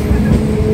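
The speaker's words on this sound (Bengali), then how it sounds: "ট্রেন তারকেশ্বর থেকে এগিয়ে চলেছে গোঘাটের উদ্দেশ্যে।" A moving passenger train departing Tarakeswar rumbles with a loud, steady low roar and rolling wheel noise, heard briefly from on board.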